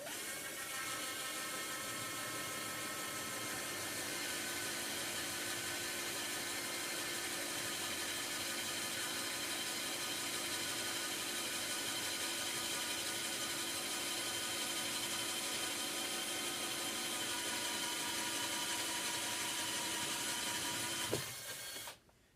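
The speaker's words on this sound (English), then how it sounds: "using a 3/8 wood bit," A drill driving a 3/8 wood bit into a wooden sliding barn door gives a steady, loud, unbroken mechanical whine for about twenty seconds, then cuts off abruptly.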